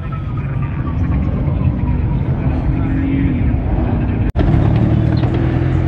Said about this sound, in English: More cars pulling in.